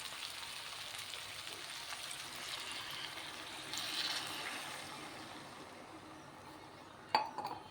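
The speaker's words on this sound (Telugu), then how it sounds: "వాటర్ ఒక గ్లాసు వేసానండి" Water from a glass goes into a pan of frying okra and raw prawns, a hissing bubbling swell that rises midway and fades, then a single sharp clink of glass or utensil near the end.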